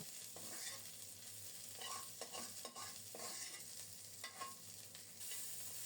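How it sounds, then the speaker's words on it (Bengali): Garlic and green chilies fry in oil, a continuous close crackling sizzle with soft stirring scrapes at intervals and no talking. "রসুন কাঁচামরিচ কিছুক্ষণ ভেজে নিয়ে আরও একটু তেল দেব"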